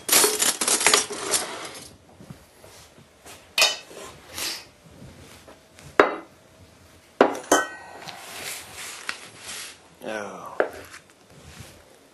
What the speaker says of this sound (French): Alors je vais changer de couteau.